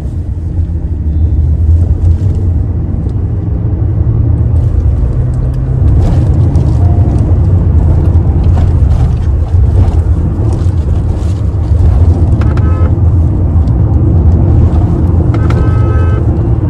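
A Hyundai Creta or Kia Seltos SUV cruises along a road, heard from inside as a loud, constant engine and road drone with heavy wind buffeting and occasional small knocks.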